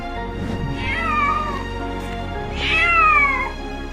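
A cat meows twice, close and clear, each call a drawn-out rising then falling cry about a second long, with a short pause between.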